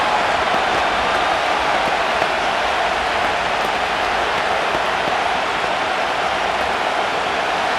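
Stadium crowd cheering on third down in Madden NFL 25, Indianapolis Colts versus New York Giants, a steady loud roar of noise filling the whole stretch without a break.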